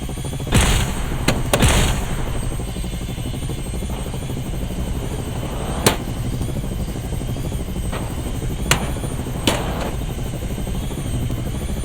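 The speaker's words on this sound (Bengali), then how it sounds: "যাচ্ছি আমরা হেলিকপ্টার নিয়ে।" A steady helicopter rotor drone in the video game Dude Theft Wars fills the whole stretch, loud and continuous, with a few sharp thuds and clicks breaking through now and then.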